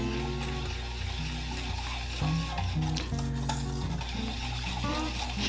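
Sake simmers in a pan of thin miso sauce on the heat, a soft steady sizzle broken by repeated scraping and stirring strokes of a utensil against the pot.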